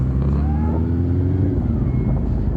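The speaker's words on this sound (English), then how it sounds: "you are paying for the VTEC, that amazing 4-cylinder sound" Honda CB400 Super Four Spec 3 four-cylinder motorcycle with VTEC, its engine giving a deep, steady, smooth rumble with a rising whine as revs climb and ease off, close and continuous with no voices.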